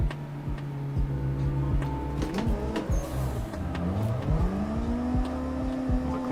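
A sim drifting video game car engine, clutch-kicked in second gear, revs up with rising and falling engine tones, loud and continuous with clicking ticks over the top.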